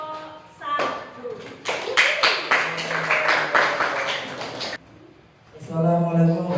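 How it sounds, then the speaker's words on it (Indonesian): Classroom applause for group 1, a burst of many hands clapping for about three seconds, with talking before and after. "beri tepuk tangan untuk kelompok 1"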